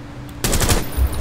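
Gunfire from a firearm in the tactical shooter Rainbow Six Siege: a sudden loud burst of shots that breaks out of quiet and keeps going as close, dense automatic-sounding fire.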